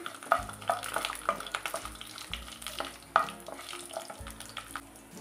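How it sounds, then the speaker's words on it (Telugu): Coriander seeds, fenugreek and dried red chillies roasting in a little hot oil in a pan for ivy gourd chutney: soft crackling with sharp spatula clinks and scrapes at irregular moments. "ఒక స్పూన్ ధనియాలు, కొద్దిగా మెంతులు ఇలా వేయించుకొని ఒక 3 ఎండుమిర్చి వేసుకొని"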